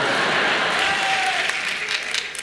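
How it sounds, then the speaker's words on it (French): Theatre audience at the Olympia in Paris applauds in a steady, close burst of clapping that fills the hall, then thins slightly toward the end. "Et il y en a qui applaudissent"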